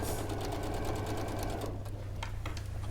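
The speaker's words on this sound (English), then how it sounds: "you're just sewing that strip along the long edge" Up close, a sewing machine runs steadily and loudly as it stitches a fabric strip along a long edge, its needle whirring continuously for the whole stretch without any voices.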